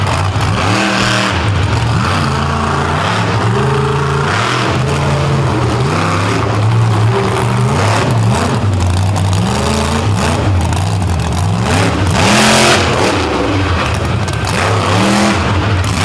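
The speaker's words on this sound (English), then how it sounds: "Now as Farm Josh Eckel rolls out of Martin, Michigan in the raspy, thunderous Frontier Truck Parts Sinistar." A loud, raspy truck-pulling truck engine, the Frontier Truck Parts Sinistar, roars and revs continuously at a pulling event, its pitch climbing and dropping through repeated throttle surges.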